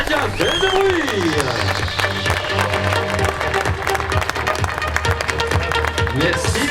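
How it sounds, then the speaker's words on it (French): Audience applause for a masters podium at a triathlon awards ceremony, steady clapping across the whole stretch beneath a male announcer's voice over a public address system. "Mesdames, messieurs, applaudissements, le podium master"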